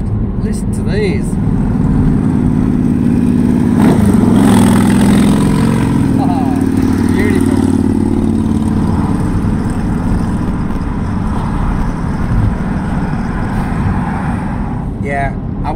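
Motorcycles rev and rumble past on a UK road, a loud engine drone that swells around the middle and fades, mixed with traffic noise while someone speaks over it.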